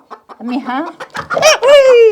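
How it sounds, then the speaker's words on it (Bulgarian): Hens clucking and squawking loudly and close by in a rural yard, a run of agitated rising cackles with short pauses between calls. "Много проклети кокошки, че ми чупят и яйцата."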